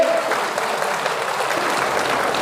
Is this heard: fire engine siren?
no